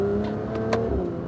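Porsche GT3 RS accelerating on a race circuit, a steady, close engine drone with a rising harmonic whine heard from inside the car, continuous throughout.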